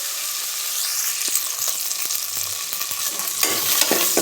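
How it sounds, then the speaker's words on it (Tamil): Onions sautéing in oil in a frying pan give a steady, close sizzle, with scattered clicks and scrapes from stirring throughout. "நல்லா வதங்கட்டும்."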